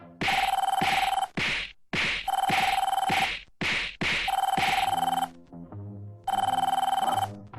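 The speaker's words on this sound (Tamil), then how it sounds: "நான் எவ்வளவு அடிச்சாலும் மணி திருப்பி அடிக்குது பாஸ்" An old-style telephone bell rings loudly in repeated bursts of shrill trilling, with sharp whacks and thuds breaking in between the rings in a comedy scene.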